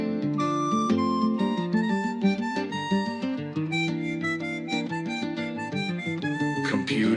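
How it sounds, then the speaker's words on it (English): A samba-style cover song generated with SUNO v4 plays steadily, with a dense mix of rhythmic accompaniment and melodic lines. "I then told SUNO, I want to generate a cover song, and this should be realized as a samba version."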